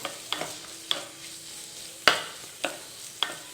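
Curry leaves and green chillies sizzle in hot oil in a pan for a Kerala-style varutharacha kadala curry. A low, steady frying hiss runs under about half a dozen sharp spatula clicks and scrapes from close stirring, with no voices.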